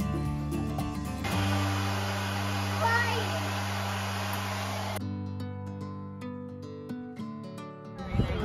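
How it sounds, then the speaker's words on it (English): A hand-held blow dryer switches on and blows steadily at a ping pong ball for about four seconds with a loud whirring whine, then cuts off, leaving people talking in a room. "Takes a ping pong ball and a blow dryer."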